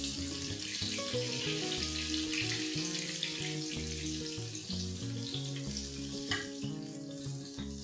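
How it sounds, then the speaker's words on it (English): Hot oil sizzles and crackles as fried Parsi chicken farcha is lifted out and left to drain, a steady frying hiss running under background music throughout. "Let's drain the oil off."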